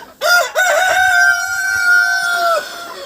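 A Cochin rooster crows close by in a farmyard. It gives one loud, drawn-out call that starts with a few rising notes and holds a long steady tone before it cuts off, with no voices.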